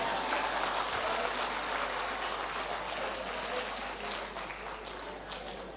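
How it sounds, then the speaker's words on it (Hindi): Audience clapping together in a hall, a dense, even patter of applause that stays fairly steady and softens slightly toward the end. "उन दुखियारी लोगों ने ताली बजाई"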